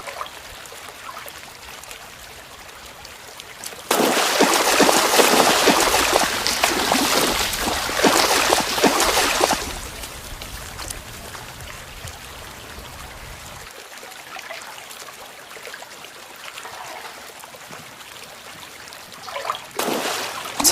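A shallow stream flows in winter habitat, a steady trickle that swells into a louder rushing burst of water for several seconds before settling back to a softer babble; no one speaks.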